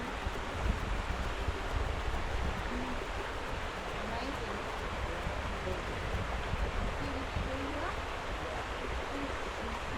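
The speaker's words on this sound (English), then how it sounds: "It's a nice wind coming up from, it's a nice wind coming from that direction." Steady broadband rush of air and falling water near a rainforest waterfall, continuous and fairly loud throughout, with no clear gusts standing out from the constant roar.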